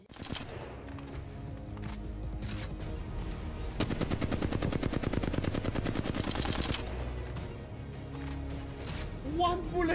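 Rapid automatic gunfire in the battle royale shooter Apex Legends, a dense burst of shots for about three seconds midway amid scattered single shots, with players talking excitedly over the action.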